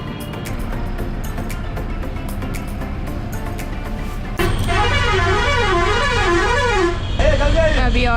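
City bus creeping slowly through Patna traffic between AIIMS and Kargil Chowk, engine rumbling steadily while a loud wavering horn blares near the end among other honks, with talk and cabin noise underneath.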